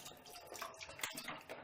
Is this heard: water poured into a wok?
yes